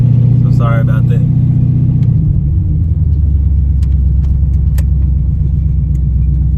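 Box Chevy with a 350 V8, Hooker headers and dual Flowmaster exhausts rumbling loudly and revving up briefly, a deep steady idle drone dominating throughout with faint clicks and jangles.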